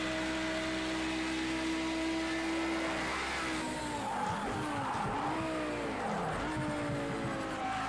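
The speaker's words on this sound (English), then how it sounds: "that car gets rough under braking." A race car engine drones steadily in a video game, then tires squeal and the pitch drops and wavers as the car brakes hard; no voices.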